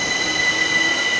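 A passenger train heading to Gatwick Airport runs steadily with a loud, continuous high-pitched wheel squeal and rumble, heard from on board throughout the short stretch.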